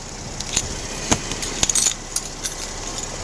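A bunch of keys jangles in short metallic clinks and rattles as it is set aside along with a wallet during a police stop, several bright bursts over a quiet background.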